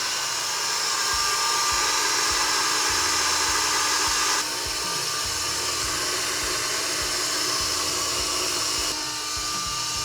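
An electric mixer running on its highest setting whips marshmallow mixture, a loud steady motor whine with a high buzzing edge that holds for the full stretch, with only a slight shift in pitch partway through.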